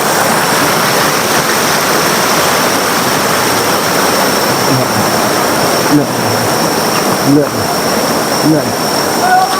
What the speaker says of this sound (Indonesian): Karena sungai ini sangat amat deras dan sangat berbahaya sekali.